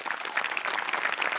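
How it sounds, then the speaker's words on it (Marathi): Audience applause at a comedy show stage, a dense burst of many hands clapping steadily for a brief moment, moderately loud and fairly close, with no speech over it. "सगळ्यात आधी टाळ्या वाजल्या पाहिजेत मोठ्यांसाठी आणि अभिजित पवारसाठी"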